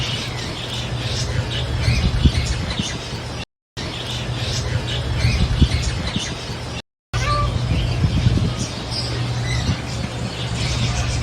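Birds squawk and chatter in a zoo aviary in Madinah near Quba Mosque while being fed grain from an open palm. The dense, continuous, close chorus is broken by two brief silent gaps.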